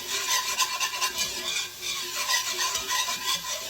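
Garlic cloves cooking in a pan for Creamy Cajun Chicken and Rice, stirred with steady scraping and rasping under a soft sizzle, close and continuous with no talk.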